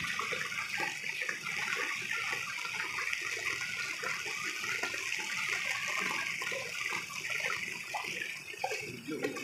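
Floodwater runs over a rural road after heavy rain, a steady broadband rushing and gushing that stays loud and continuous throughout, with faint voices in the background.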